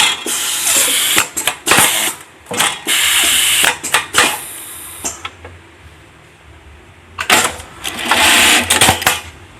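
A MAICA GL-21 automatic wash-care label sewing machine stitches two pieces, producing loud, close mechanical clacking and rapid ratcheting bursts, with a short quieter lull midway before another burst.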